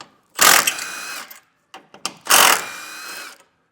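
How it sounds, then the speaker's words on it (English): A 13mm socket on a ratchet backing bolts out of a 2024 Ford during a base plate install, two bursts of rapid metallic clicking separated by a few short ticks, close and loud, no talking. "Then we'll take a 13mm socket. We'll take these two bolts out."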